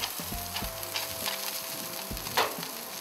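Fish fillet frying skin-side down on a barbecue hot plate with olive oil, a steady close sizzle with crackling spits and a few soft scraping knocks, no talking.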